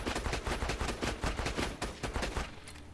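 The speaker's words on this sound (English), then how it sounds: "Shoot through another mag." Rapid gunfire from the Borderlands shooter game, a steady stream of quick shots emptying a magazine at moderate volume, thinning out near the end.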